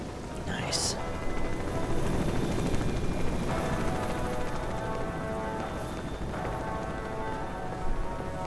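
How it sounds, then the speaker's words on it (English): A helicopter circling overhead drones continuously in the background of the video game S.T.A.L.K.E.R.: Shadow of Chernobyl, a steady low rotor rumble under quiet ambient noise. "Still got that helicopter circling."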